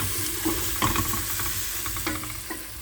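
Potatoes being stirred into tomato paste already sautéed in a pot, for a homemade red lentil soup with vegetables; scraping stir strokes with a soft sizzle underneath, a few distinct clanks, close and moderately loud, no talking.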